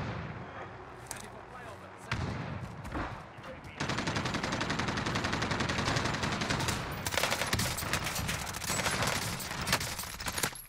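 Rapid automatic M4A1 rifle fire in the battle royale game Warzone, dense sustained bursts that run loud and nearly continuous through most of the stretch, with a voice talking over the shooting.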